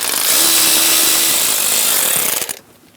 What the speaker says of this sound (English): Using a 10mm socket, remove the bolt.